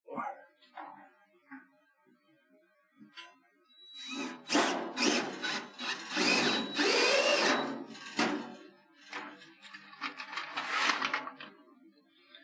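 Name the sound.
power drill drilling holes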